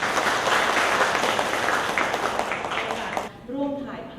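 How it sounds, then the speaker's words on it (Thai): An audience at a provincial government public hearing in Phra Nakhon Si Ayutthaya, Thailand, breaks into dense, sustained applause for about three seconds. The clapping then drops away abruptly and a voice begins speaking. "ขอเสียงปรบมือด้วยค่ะ"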